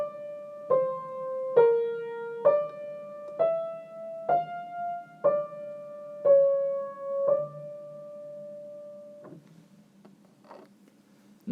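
A first species counterpoint melody line played alone, a series of sustained single notes moving mostly by step with several changes of direction, each note evenly timed, clear and close, with no talk.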